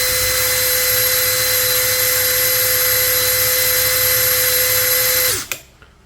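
Dewalt DCD805 cordless brushless impact drill spinning steadily at high speed, a loud, constant whine for about five seconds before it cuts off and winds down to quiet.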